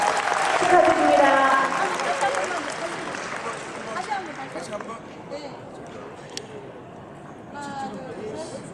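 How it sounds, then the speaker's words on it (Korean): A crowd at the 25th Guri Mayor's Cup amateur badminton tournament claps loudly at first, and the applause thins out over several seconds while someone speaks over a loudspeaker. "주장 안승남 큰 박수 부탁드립니다"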